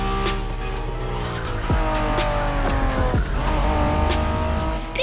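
A Honda NSX sports car, a 1990s model, races in The Crew Motorfest, its engine droning loud and steady with rising and falling gear-shift sweeps and brief tire squeal, no voices.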